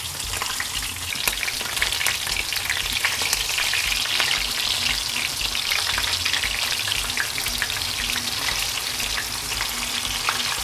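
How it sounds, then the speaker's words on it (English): Tofu frying in a pan with oil, a steady loud sizzle and crackle lasting the whole stretch, with no voices. "When you see your tofu have a crust like this, you can turn it over, flip it over."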